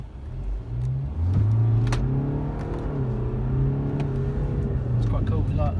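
A 2017 BMW 520d M Sport diesel engine is revved while the car sits in first gear. A steady idle rises into a smooth, moderate rev that holds and eases off, heard up close from inside the car.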